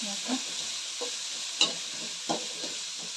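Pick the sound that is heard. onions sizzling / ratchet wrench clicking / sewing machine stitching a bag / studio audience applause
onions sizzling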